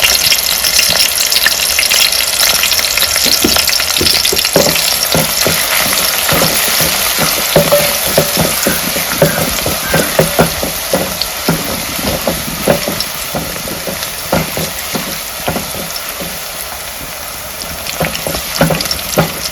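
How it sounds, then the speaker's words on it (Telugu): Large onions browning in hot oil over a medium flame, a loud, close, continuous sizzle with crackling pops and occasional stirring scrapes, lasting the whole span with no talking. "ఈ పెద్ద ఉల్లిపాయలు కొంచెం బ్రౌన్ కలర్ వచ్చే వరకు వేయించుకోవాలి."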